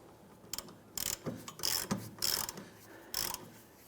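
Ratcheting clicks from a car jack being raised under a 2001-2005 Honda Civic during a rear shock replacement, several short mechanical bursts in a loose rhythm, close and fairly quiet.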